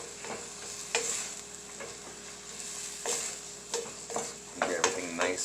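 A spoon scrapes and stirs a thin-sliced potato and sweet plantain filling in a sizzling pan, with repeated clinks and scrapes at an uneven rhythm over a soft fry hiss, close by and without talk.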